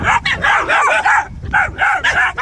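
A mother dog barks in loud, close, rapid bursts, a short pause breaking the run of barks before they resume.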